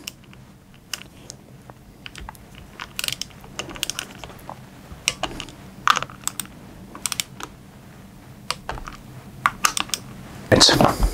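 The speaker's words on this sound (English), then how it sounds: "So now I'm going to prep my torque wrench, which I'm getting to 6 Newton meters. And we'll go through and tighten all of these." Torque wrench tightens terminal bolts on 200AH LiFePo4 battery cells, a run of sharp close ratcheting clicks in irregular bursts, with a louder clatter near the end and a voice talking.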